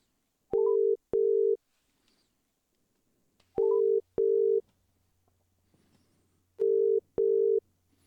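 Three pairs of steady dial-type telephone tones, each pair preceded by a sharp click, ring out clearly at regular intervals over near silence as a call is placed.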